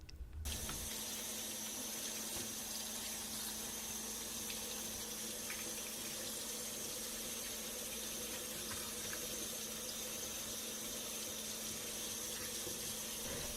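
Tap water runs steadily into a kitchen sink while cut leeks are washed, a continuous, even rush of flow with no voices.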